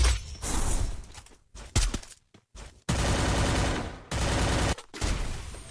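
Bursts of video-game gunfire from an S80 gun crackle in rapid shots, broken by short silent gaps, then a long sustained volley and another heavy burst, loud and close with no voices.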